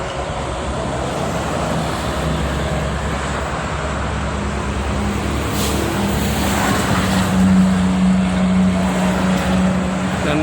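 Heavy road traffic of mostly private cars and buses heading toward Cikampek at midday during the Eid al-Adha homecoming rush: a loud, continuous roar of engines and tyres with a vehicle passing close, no voices.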